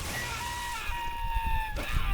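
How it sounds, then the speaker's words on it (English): Shrill, strained screams from people being zapped by a gun in the Red Faction Guerrilla video game, wavering and sustained over game noise before a sharp burst near the end. "That's a lot of screaming."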